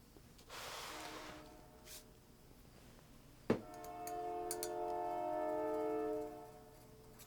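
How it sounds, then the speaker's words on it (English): A train rolls past with a steady rumble, then its horn blows a long, loud, sustained blast that holds for a few seconds before cutting off. "Toot toot goes the train, rolling through town."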